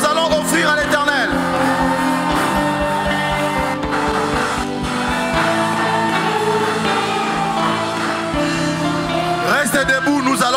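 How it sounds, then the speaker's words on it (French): A church retreat congregation shouts and cheers together in a closing worship service, a loud, sustained crowd roar with whoops and yells over rhythmic music throughout. "Est-ce que tu peux pousser les derniers cris?"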